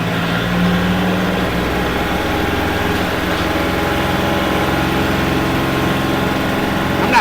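The engine of a 2020 Kubota L4018 4WD farm tractor runs close by with a loud, steady diesel drone. The sound stays even throughout, with no clear break for gear changes.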